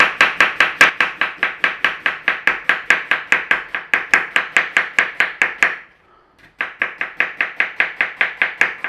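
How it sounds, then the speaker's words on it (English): A knife slices onions thinly on a board in quick, steady, close chops that pause briefly and then resume at the same brisk rhythm. "You just slice your onions any which way you want."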